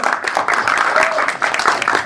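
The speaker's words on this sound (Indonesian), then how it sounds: "Boleh berikan tepuk tangan dong." Audience applause at a press conference for a concert, a steady wash of clapping that fills the whole stretch with fairly even density and no voices on top.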